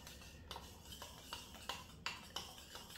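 A tablespoon of 91% alcohol is stirred vigorously into a bubble-mix solution. The spoon gives faint, sparse clinks and scrapes against the container, quiet and close.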